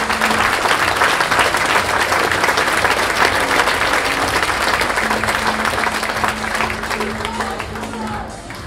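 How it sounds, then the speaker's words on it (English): A crowd gives sustained, dense applause at a youth football award show honouring an under-13 Colts team, loud and steady throughout and fading slightly toward the end, with voices faintly audible underneath. "Big round of applause to the under-13 Colts team under John McMullen and Justin Hannah."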